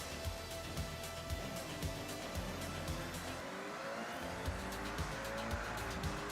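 A Toyota car engine in the racing game Forza Horizon hums steadily at a low level, with faint repeated ticks and a brief dip partway through before the drone resumes.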